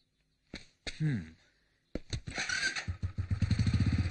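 A motorcycle engine starts after a couple of short knocks, then idles and revs with a steady, loud, rapid pulsing beat close by.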